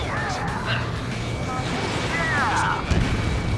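Explosions as an oil tanker is blown up in Ace Combat 7, a dense continuous rumble with booming bursts and whooshing sweeps, loud and sustained, with a heavier blast near the end.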